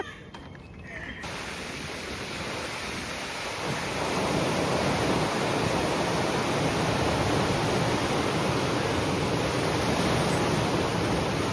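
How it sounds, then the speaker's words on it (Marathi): Sea waves wash onto a beach at Alibaug in the morning, a steady broadband roar of surf that swells louder after the first few seconds and then holds constant, with no voices. "मॉर्निंग सेशनमध्ये बीचवर बसायचं, तर समुद्राच्या लाटाचा आवाज."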